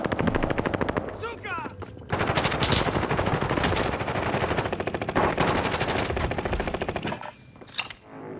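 Sustained automatic gunfire in Call of Duty, rapid dense bursts filling nearly the whole stretch, with a voice talking over the shooting and brief game announcer callouts.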